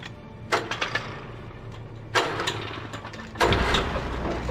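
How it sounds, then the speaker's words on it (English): A chainsaw engine from Alan Wake Remastered revs in three separate rasping bursts, fairly near, with short lulls of low idle between them. "O maluco vai vir com uma chainsaw. A tal da moto. Moto com serra."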